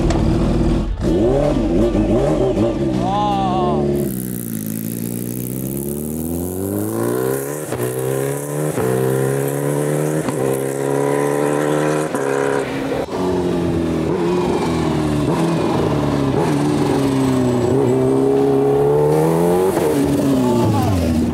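A loud, close car engine in a video game revs and climbs through the gears, pitch rising and falling in long sweeps, with occasional tire squeal and no talking.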